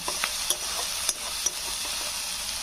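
Garlic paste fried in a pan for a Bengali pui shak bhituli with rohu fish head gives a steady close sizzle, broken by a few sharp clicks of stirring against the pan.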